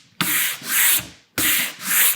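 Wood is sanded by hand in firm strokes, three loud rasping passes in a back-and-forth rhythm with short gaps between them, close and clear with no talking.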